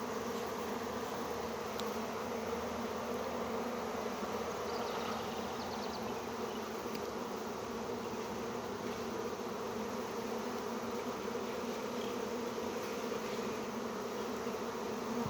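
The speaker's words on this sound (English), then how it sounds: "there's a couple bees fanning in the entrance. There's a lot of them in the air too" A honey bee swarm gathered at a hive entrance, with a few bees fanning there while many more fly in the air, makes a dense, steady buzzing drone that continues unbroken throughout.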